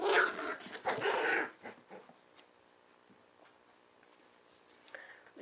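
Dogs scuffle and play, with a burst of snarling growls and yips up front, then quieter rustling and panting, and a short growl near the end.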